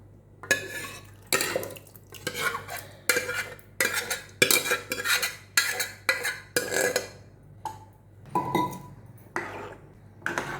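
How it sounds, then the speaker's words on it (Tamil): Cooked lentil dal being stirred into a pot of sambar with brinjal and drumstick, a steady series of close scraping, clinking spoon strokes against the pot with short pauses between them. "இப்போ நம்ம வேக வச்ச பருப்பை இதில் ஆட் பண்ணிக்கலாம்"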